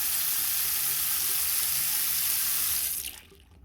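Water rushing loudly down a bathroom sink drain after the clog was cleared with a rooter, a steady close whoosh that cuts off sharply near the end, leaving near silence.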